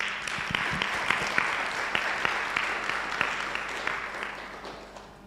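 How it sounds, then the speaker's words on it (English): An audience claps steadily, a moderate wash of many hands with a few sharper individual claps standing out, continuing without talk. "Let's clap hands for Rutendo."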